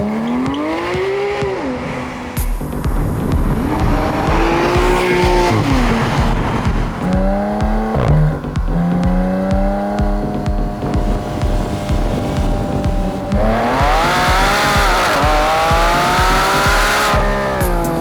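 A Porsche 911 GT3 RS (2016) sports car engine revs and climbs through the gears, roaring loudly with rising and falling pitch as it accelerates hard, no voices.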